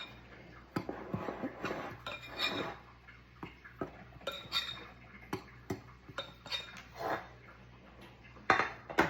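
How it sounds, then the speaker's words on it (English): A fork clinks and scrapes against a bowl while flour and sugar are mixed, in irregular sharp taps and scrapes over a quiet room, close and moderately soft. "I've got a fork here, we're just gonna mix that in."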